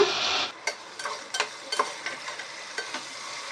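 Crushed garlic, tomato and potato being sautéed in a pan, with a steady sizzle and repeated scraping stirs of a spoon at an irregular rhythm, close up and without talk.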